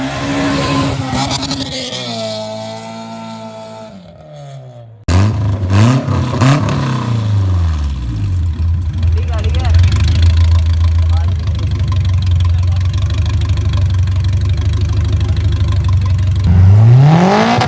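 Honda EF car engine on nitrous, revving hard at close range with rising and falling pitch sweeps, then holding a loud sustained roar that drops off near the end; voices talk over the early part.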